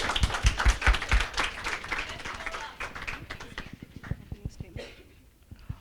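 An audience at a kids-versus-parents debate about child-raising claps loudly at first; the applause thins into scattered claps as a voice begins speaking over it.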